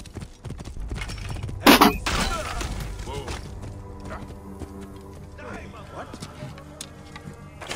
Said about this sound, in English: Must be Mered's horse.